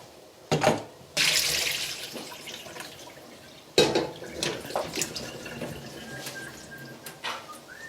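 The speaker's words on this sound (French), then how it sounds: "j'ai fait cuire mes pommes de terre et les patates douces. On va les égoutter." Cooked potatoes and sweet potatoes being drained, water pouring and splashing into a sink in bursts with dripping between, close and fairly loud, no talk.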